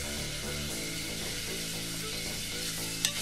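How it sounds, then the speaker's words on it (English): Onions sizzle steadily in olive oil and butter in a pot over medium heat, giving a continuous close frying hiss with one brief clink near the end. "I'm gonna stir these over medium heat until they take on a little bit of color."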